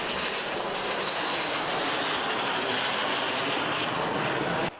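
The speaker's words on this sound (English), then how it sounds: "This aircraft is the Su-35." A Su-35 fighter jet's engines give off a sustained, loud broadband roar that holds steady for nearly five seconds without voices.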